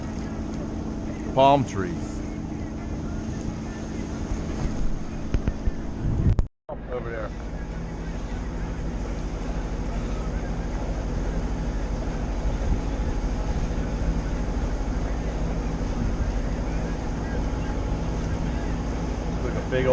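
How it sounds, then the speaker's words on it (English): Steady low engine drone from boats on the busy waterway at Fort Pierce, Florida, running under the whole stretch with a brief cut partway through, while a person talks nearby. "It's really busy here. Boats everywhere."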